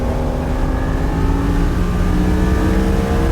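A loud, steady V10 Lamborghini engine roar fills the whole stretch on a Formula 1 track, with a droning tone that climbs slowly as the car accelerates at full throttle.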